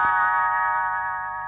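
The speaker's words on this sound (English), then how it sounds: "You will know it is time to turn the page when Tinker Bell rings her little bells like this." A single ring of little bells sounds as a page-turn signal in a read-along storybook, a bright sustained chime that fades slowly on its own.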